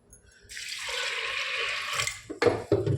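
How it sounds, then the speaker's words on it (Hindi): A jug of water poured into a cooking pot in a home kitchen while making mutton khichda, a close splashing gush lasting a couple of seconds, followed by a few brief clunks and trickles. "मैं आपको दिखाती हूँ, 1 जग पानी ले रही हूँ।"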